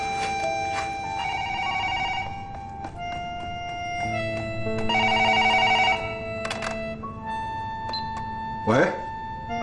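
A telephone rings in a Chinese TV drama with a bright, electronic bell trill repeating in several bursts and short gaps between them. The ringing is clear and prominent over a faint room background.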